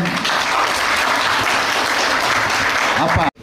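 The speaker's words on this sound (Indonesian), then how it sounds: "Jadi kita semua yang hadir aplaus kepada Ketua Pokja" An audience at a health program evaluation gathering in Lanny Jaya breaks into loud, dense applause for the head of the working group, clapping continuously before cutting off abruptly near the end.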